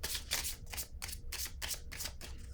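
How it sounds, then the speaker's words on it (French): Playing cards handled on a table, a run of crisp papery flicks and slaps in a steady rhythm, close and moderately loud with no talk. "Je vais déposer une carte ici."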